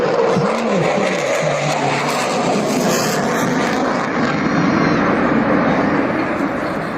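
A delta-wing jet roars overhead on full reheat at an air show in Ayr, Scotland, a loud sustained rumbling thunder with a rising whine early on that holds steady throughout.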